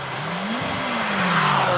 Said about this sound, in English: This is a magnificent looking car, the Works F3 race car.